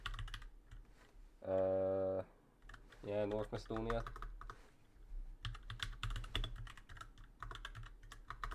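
Rapid clicking keystrokes on a computer keyboard run in uneven bursts close to the microphone, with a person speaking briefly in between.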